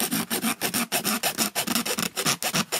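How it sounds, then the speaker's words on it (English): Rhythmic rasping strokes of a file or saw cutting a notch for a lever into a small transistor tester box, about a dozen quick, even back-and-forth strokes, close and fairly loud with no talking. "A little bit of this has to be cut out for the lever."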